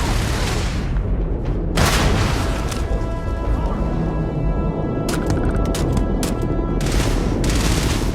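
Gunfire in the sci-fi video game Starfield: loud, sustained bursts of rapid shots and booming impacts crowd the whole stretch, with brief sharp cracks standing out over the steady battle din.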